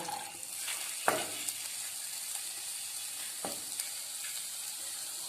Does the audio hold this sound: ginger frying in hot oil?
yes